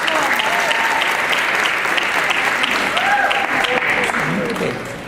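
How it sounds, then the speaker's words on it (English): A crowd at a Martin Luther King community breakfast applauds steadily, dense clapping close and loud throughout, easing slightly at the end. "one more time, one more round of applause."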